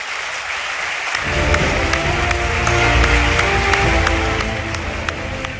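At a university media awards ceremony, an audience breaks into sustained applause, a dense wash of many clapping hands that swells and holds, with occasional sharp individual claps standing out.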